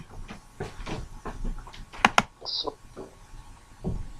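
Two sharp, close clicks in quick succession, like a computer mouse button being pressed, set against a quiet room with murmured talk before and after and a brief high electronic tone.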